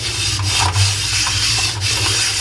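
Steady abrasive rubbing and scraping of a scrubber against a rusty iron roti griddle, continuous and fairly loud throughout.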